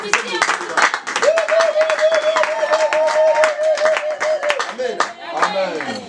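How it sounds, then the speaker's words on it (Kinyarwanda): A church congregation bursts into rhythmic clapping and applause that continues steadily throughout, with a sustained sung or hummed tone and voices mixed in. "Ndagira ngo twikubitire natwe amashyi."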